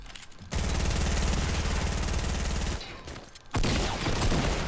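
Rapid automatic gunfire in a Fortnite match, a loud sustained burst of shots cutting off abruptly, then a second loud barrage after a brief lull.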